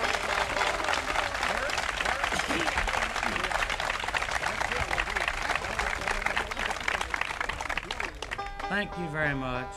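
Dense, sustained audience applause fills a live Newport Folk Festival performance, steady clapping from a large crowd that fades near the end as a voice begins talking over it.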